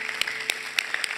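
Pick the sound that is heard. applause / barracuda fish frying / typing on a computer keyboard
applause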